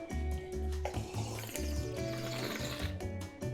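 Sipping water heard over a live voice call while building in Minecraft: close, intermittent slurps and small liquid sounds, with a faint tonal hum running under them.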